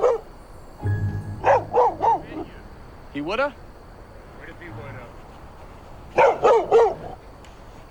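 A dog, greeted as a pup, barks in two short clusters of several quick barks each, close by, with people talking around it.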